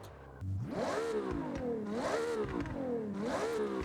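A Ferrari F80 V12 in the Forza Horizon 6 racing game revs three times in a row, each rise climbing to a high pitch and then falling back. The engine is loud and close, with no talking.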